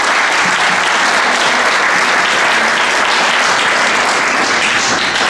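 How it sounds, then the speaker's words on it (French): Loud, dense applause from the audience at a support committee launch, continuous clapping from many hands sustained throughout without pause. "Moi je pense que ça mérite des applaudissements."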